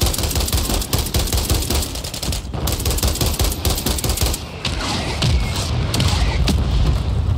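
Mortar strike explosions and rapid gunfire in a Rebirth ranked match of a shooter video game make a loud, continuous clatter of shots and booms, heaviest near the start and easing slightly toward the end.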